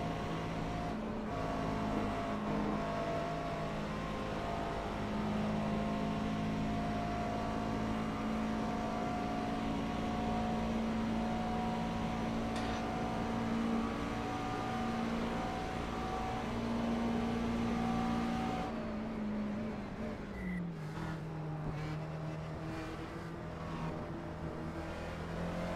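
A race car runs flat out through Blanchimont at Spa-Francorchamps during a 24-hour race with almost full wing, a loud, sustained engine drone holding steady, then shifting pitch near the end as it drops down.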